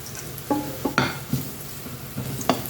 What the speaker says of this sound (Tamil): கண்டிப்பாக பூண்டு அந்த மாதிரி செவக்க வறுக்கணும். இப்போ புளியை போட்டுக்கிறேன்.